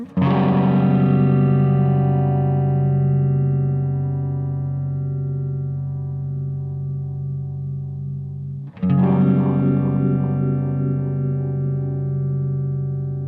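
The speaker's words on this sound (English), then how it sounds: "So that's the Hydra in slow-mo on the tremolo, slow-mo tremolo." Hydra synthesizer playing a long sustained chord with a slow tremolo effect, a loud bright tone that swells and decays before being struck again near the end, with no talk.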